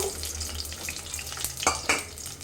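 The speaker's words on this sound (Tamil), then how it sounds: "கொஞ்சோண்டு கடுகு சேர்க்குறோம். கொஞ்சோண்டு சின்ன ஜீரகம், ஒரு 15 சின்ன வெங்காயம்," Mustard seeds, cumin and about fifteen shallots hit hot oil with a faint sizzle and crackle, followed by a couple of louder stirring scrapes in the pan.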